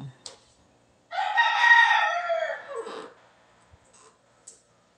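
A rooster from Negros crows once, loud and close, a long drawn-out call lasting about two seconds with a few faint sounds around it.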